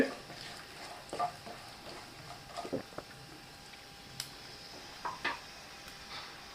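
Tomato rice stirred in a pan, with soft scraping and light clinks of a spoon against the pan in scattered strokes over a faint sizzle, quiet and close.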